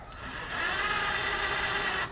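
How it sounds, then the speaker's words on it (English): A drill with a 1/8 inch bit whirs steadily for about two seconds, boring a pilot hole in a Dodge Dakota, a close, moderately loud whine that rises in intensity after starting. "Just gonna make a little pilot hole for this one."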